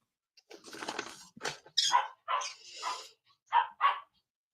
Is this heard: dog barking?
yes